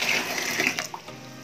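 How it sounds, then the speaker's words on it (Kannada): Hot water poured into a bucket for household cleaning gives a steady, close splashing pour that runs on without a break and tails off slightly near the end. "ಬಕೆಟ್ಗೀಗ ಬಿಸಿ ನೀರನ್ನ ಹಾಕೊಳ್ತಾ ಇದ್ದೀನಿ"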